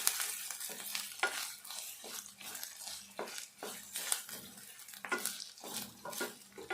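Onions fry in a pot with a spoon stirring and scraping in a repeated rhythm, close and fairly quiet, the sizzle running underneath the strokes and no talking.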